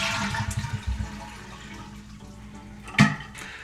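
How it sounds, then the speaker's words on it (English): A household toilet flushes with its handle held down to drain the tank, a gurgling rush of water that swells and sputters, with a sharp loud surge near the end, close by and with no voices. "Next we're going to flush the toilet, and we're going to hold the handle down the entire time we're flushing until this tank gets completely empty"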